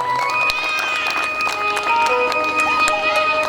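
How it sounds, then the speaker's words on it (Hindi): A seated crowd of devotees claps together at a Shrimad Bhagavat Mahapuran katha in Rangaon, Shahpura, a dense, steady patter of hands set against sustained musical tones from the accompanying musicians. "और इधर जो भक्त बैठे हैं, आप लोगों के लिए भी एक बार ताली से सेवा दे दो।"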